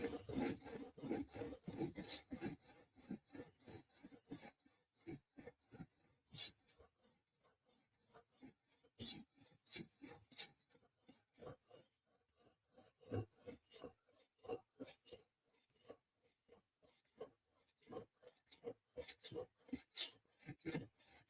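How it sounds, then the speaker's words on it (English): A repeated rasping scrape as an Olamic Whippersnapper knife is drawn across a sharpening stone, a steady series of strokes with short pauses between them, close and fairly quiet, with no one talking. "Sharpening time."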